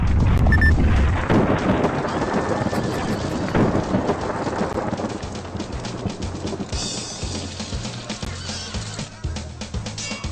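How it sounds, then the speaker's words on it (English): A lightning spell in a Zelda video game sets off a loud thunder crack that rolls into a long rumble with rain-like hiss, then fades under a low repeating game tune. "I shall try using the spell from the lightning chapter."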